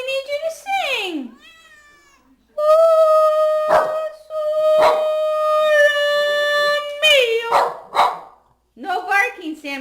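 Opie the dog howls in long, sustained tonal notes that rise and waver, breaking off between phrases, close and loud, with short barks or yelps mixed in from another dog.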